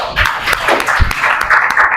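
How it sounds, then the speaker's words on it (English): An audience at an English debate session gives a round of applause, a dense, fairly loud clatter of many hands that stays steady for a couple of seconds with no talking. "I think you must have to make a big round of applause for both of them"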